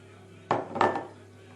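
Far breton batter with sugar is stirred in a bowl, giving two close scraping clinks of utensil against the bowl, the second longer, over a quiet background with no talking.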